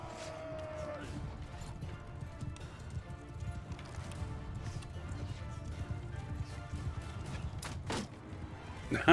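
Horse hooves pound in a rapid clip-clop rhythm during mounted combat in Mount & Blade II: Bannerlord, fairly faint under a busy mix of battle noise and scattered impacts.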